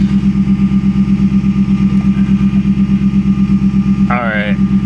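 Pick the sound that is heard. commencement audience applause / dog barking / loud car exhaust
loud car exhaust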